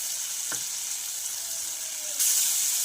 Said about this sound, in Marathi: टोमॅटो सुद्धा छान परतून घेतलेला आहे